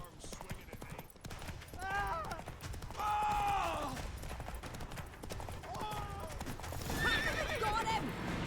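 Roach, Geralt's horse in The Witcher 3, gives several loud whinnies over galloping hooves and clanking gear, with speech in the scene.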